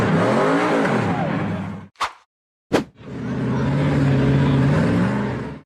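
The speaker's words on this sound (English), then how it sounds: "The purple tube frame buggy powered hard up the steep dirt trench." The engine of a purple off-road tube-frame buggy roars hard up a steep dirt hill, cuts out abruptly for about a second with two sharp bangs, then surges back at full, loud revs.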